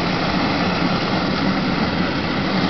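Steady rushing of air blown out of the front of a homemade solar heater box, a continuous broadband whoosh at close range with no talk.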